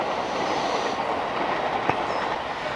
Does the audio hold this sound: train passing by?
yes